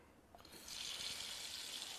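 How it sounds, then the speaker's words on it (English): Tap water running into a stock pot of vegetable stock with peppercorns, thyme and parsley. A quiet start gives way to a steady, hissing rush of pouring water that continues to the end. "some tap water."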